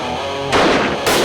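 Custom rifle chambered in 338 Weatherby Magnum firing, two sharp loud blasts in quick succession with short booming decay, heard close.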